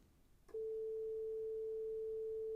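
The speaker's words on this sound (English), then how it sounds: "I've opened up the filter, so I've just got that sine wave pumping out." A pure sine tone from a TAL software synthesizer with its filter fully open switches on abruptly after a brief moment of near-silence, then holds perfectly steady and unchanging.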